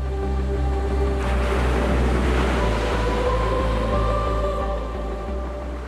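Sea surf rolls onto a fine golden sandy beach at the protected Irakli area on the Bulgarian coast, a steady loud wash of waves with no talking, under a faint tonal hum.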